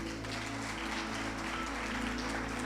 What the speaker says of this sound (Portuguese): Vamos aplaudir o Idel, 17 anos